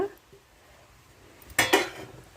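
Cauliflower fried rice stirred in a pan, a brief quiet stretch and then a couple of loud metal scrapes and clatters of a spoon against the pan.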